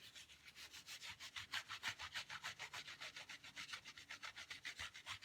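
Crayon or pencil rubbed briskly back and forth over paper laid on a textured block, a steady rhythmic scratchy swish repeating about four times a second, close and clear with no voices.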